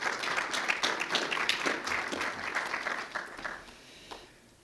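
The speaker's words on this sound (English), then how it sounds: "Let's give each other a round of applause." Conference audience claps at a political convention, a fairly distant wash of applause that holds steady and then tapers off toward the end, with a last few stray claps.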